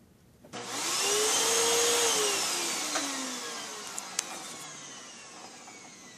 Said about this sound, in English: Bye to the vacuum.